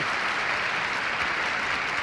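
Opera house audience at the Metropolitan Opera in New York applauds the conductor and the orchestra rising from the pit during a 1956 Lucia di Lammermoor performance, a dense, steady roar of clapping that fills the hall without a break.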